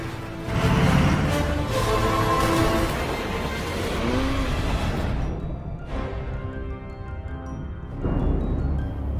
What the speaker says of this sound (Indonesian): Ethan dan Welker langsung menabrak mobil yang ditumpangi Len sampai jatuh ke dalam sungai.